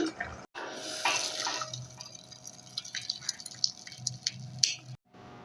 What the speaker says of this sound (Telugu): ఇప్పుడు స్టవ్ ఆఫ్ చేసుకుని వాటర్ అంతా కూడా వడగొట్టేయాలి